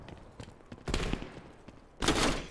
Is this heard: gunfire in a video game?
yes